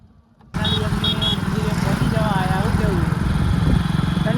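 A Suzuki Access scooter pulls away at night on a cold road, its small engine droning steadily and close with a faint rising hum, while people talk over it.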